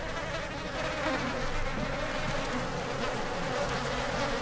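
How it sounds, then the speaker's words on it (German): Flies buzz continuously in the horror game Outlast 2, a steady, moderately quiet insect drone that fills the scene without a break and with no talking. "diese Fliegengeräusche finde ich immer extrem schlimm"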